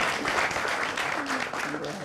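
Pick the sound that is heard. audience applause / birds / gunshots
audience applause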